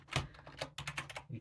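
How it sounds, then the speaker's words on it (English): Quick bursts of typing on a computer keyboard while setting up an Arch Linux install, uneven clusters of close, crisp key clicks with short pauses between them and no voices. "I need to type lang"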